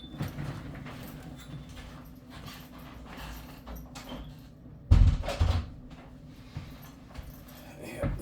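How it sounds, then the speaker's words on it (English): A door is pushed shut with one heavy thud and a short rattle midway, set against a noisy room with some faint talking in the background. "Let me close this door."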